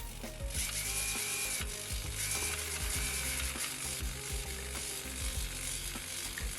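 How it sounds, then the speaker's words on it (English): Small RC motor driving the steering head of a Bruder Ausa dumper conversion, giving a steady loud ratcheting, clicking gear whir that runs continuously throughout with no talking. "the motor turning, so let's turn the head."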